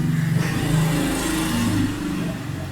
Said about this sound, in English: that's the engine of the motorbike